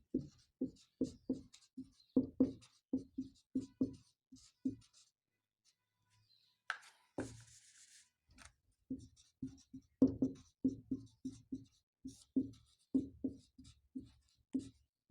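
Pen or chalk strokes sound as a geometry solution about a circle is written out, bursts of quick scratchy taps close by, a pause in the middle, then more writing.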